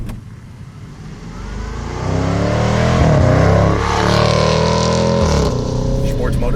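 A Jaguar F-Pace SVR engine rumbles while driving downhill, starting at a low drone and then swelling into a louder, fuller growl about two seconds in. It holds that level with shifting tones before easing slightly near the end.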